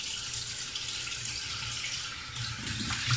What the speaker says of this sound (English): Then you want to rinse your hands.